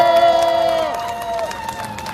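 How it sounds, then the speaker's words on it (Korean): A crowd at an election campaign support speech in Jongno, Seoul, bursts into cheering and applause, with whoops and raised voices rising loudly at first, then settling into sustained clapping and crowd noise. "박수 한번 주십시오."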